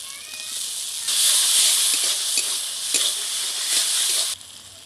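Loud hiss and sizzle as tomato and a splash of water hit hot oil in a frying pan, swelling suddenly and holding for a few seconds before cutting off abruptly.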